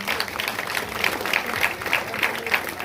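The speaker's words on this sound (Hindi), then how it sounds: "एक बार जोरदार ताली आप सभी की बननी चाहिए।" Villagers and a school gathering applaud children being honoured for yoga and Khelo India medals, a steady crowd clapping with a rhythmic pulse. Murmured voices sound faintly beneath it.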